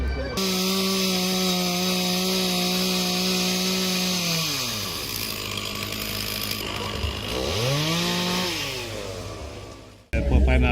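A chainsaw roars steadily at close range, its engine pitch dropping as it bites into wood and rising again, before cutting off abruptly.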